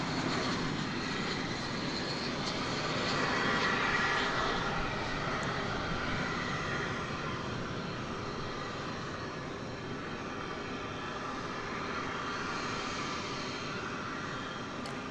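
An airliner at DFW Airport gives a long, steady engine rumble from a distance, swelling slightly then holding even throughout, with no talking.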